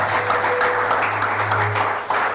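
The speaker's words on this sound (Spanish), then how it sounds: "dale un fuerte aplauso" A church congregation breaks into loud, sustained applause at a sermon, a dense continuous wash of clapping that holds steady throughout without a break.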